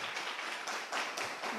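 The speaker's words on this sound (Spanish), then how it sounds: "Un fuerte aplauso para el equipo de Perú." Audience applauding the team from Peru at a youth seminar: a short burst of brisk, fairly close clapping from a group, with no talking over it.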